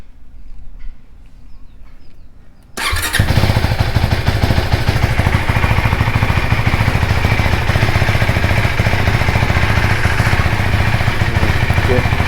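A motorcycle propped on a paddock stand is started after a couple of seconds of near quiet, then settles into a loud, steady, rough idle that runs on unbroken.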